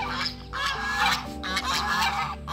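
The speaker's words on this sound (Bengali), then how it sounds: "রাজহাঁস" Geese honking close by during a motorbike tour in Purulia, several loud overlapping nasal honks repeating in quick bursts.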